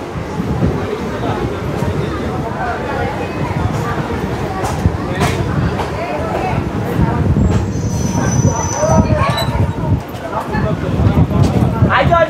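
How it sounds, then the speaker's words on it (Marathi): Vasai–Diva MEMU train rolling into Diva railway station, a steady loud rumble of wheels and carriages with scattered squeals and clanks, crowd noise and voices mixed underneath throughout. "तर ही आता आपली वसई दिवा मेमू दिवा रेल्वे स्टेशनवर एंटर करते."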